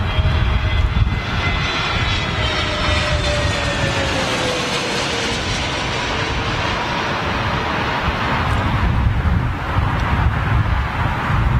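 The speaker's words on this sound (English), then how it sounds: "BA Neo." A British Airways A320neo jet roars continuously at Heathrow on a windy day. Heavy broadband engine noise is mixed with gusty wind buffeting the microphone, and a slowly shifting engine tone runs through it. No one speaks.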